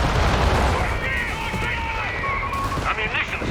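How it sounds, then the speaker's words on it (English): Heavy mortar fire in Company of Heroes 3 thuds and booms amid rattling gunfire and explosions, loud and dense battle noise throughout, with a caster talking over the action. "the heavy mortar out the back though, doing big damage to the AT gun blob"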